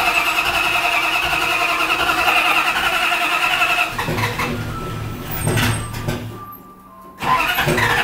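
A Pig Duster engine with a mechanical choke cranks and struggles to catch, rough mechanical churning that sputters and dips before surging again, fairly close.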